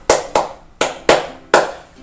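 Five crisp hand claps in an uneven rhythm, close and loud, from a children's clapping game for kindergarteners, with brief quiet gaps between them.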